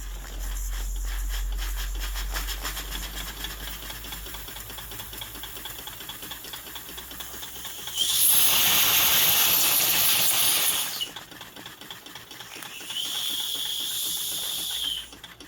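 A Stirlingkit model steam engine and boiler runs with a steady, even mechanical hiss, broken by two bursts of sharp, brighter steam hissing, the first loud and about three seconds long, the second shorter and softer.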